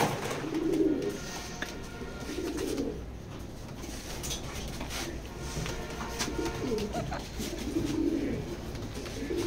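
Pigeons kept as long-distance racing stock, a pedigree pair, cooing softly and steadily in a loft, with repeated low coos rising and falling over several seconds amid faint background chatter of other birds.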